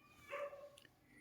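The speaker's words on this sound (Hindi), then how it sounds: "देख यहीं बगल में कुत्ता भौंक रहा है।" A dog nearby gives a single faint bark or yelp, brief and muffled, with a quiet click just after.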